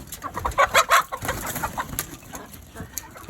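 Chickens cluck in a short, uneven burst of calls that peaks early, then tapers into softer, scattered clucks as they are let out of their coop.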